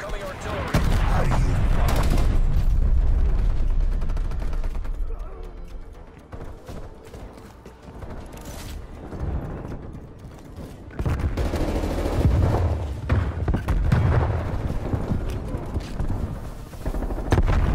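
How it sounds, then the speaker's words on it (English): An incoming artillery strike in a video game, heavy booming impacts and rumbling blasts at the start and again later, separated by quieter stretches with scattered gunfire-like cracks. "Incoming artillery."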